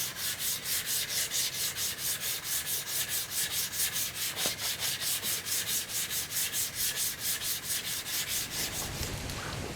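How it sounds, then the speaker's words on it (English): Steady back-and-forth sanding on a wooden tool handle to remove epoxy, a rhythmic rasping scrape repeating evenly for several seconds, close and fairly loud, with no talking. "we'll go ahead and just give it a final sanding real quick with the sanding saw"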